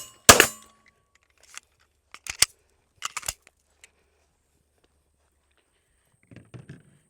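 Smith & Wesson 2024 Spec Series 9mm pistol shots outdoors, one sharp loud crack followed by several fainter spaced pops and metallic clicks, then quiet rustling.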